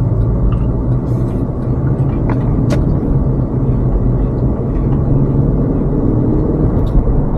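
A car interior on the road after a wheel bearing replacement, with a steady low engine and tyre rumble filling the cabin and a few faint clicks and squeaks over it, no humming whine.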